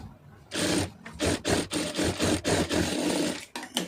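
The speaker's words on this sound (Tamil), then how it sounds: "லைனிங் பீஸ்லேயே போட்டுருங்க தையல் வந்து" A sewing machine stitches a lining piece for a blouse in a rapid pulsing run of stitches, close and fairly loud, with no speech.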